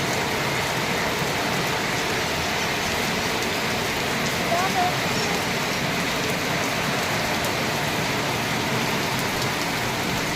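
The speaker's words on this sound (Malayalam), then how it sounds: "നല്ല മഴയുടെ സൗണ്ട് കാണിക്കണോ?" Heavy rain pours down in a steady, dense hiss that never lets up, with a faint voice briefly audible beneath the downpour.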